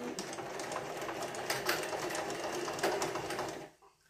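A sewing machine stitches the seam of a McCall's M7313 dress, a close rapid whirring run with slight surges, then stopping abruptly near the end.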